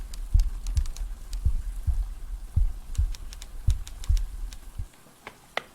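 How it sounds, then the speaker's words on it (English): A heartbeat sound effect in the video game Speak Lies: deep, steady double-thump pulses repeating about every half second, with light keyboard-like clicks ticking over the top. "Heartbeat was kicking up."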